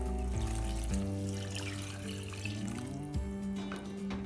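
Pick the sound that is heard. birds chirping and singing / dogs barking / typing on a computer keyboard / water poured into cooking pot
water poured into cooking pot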